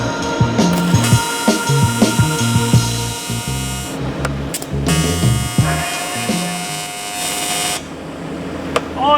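TIG tack welds on AN lines for a Formula Drift car, a steady buzzing electrical hum with stuttering on-off tones and brief gaps, close and fairly loud.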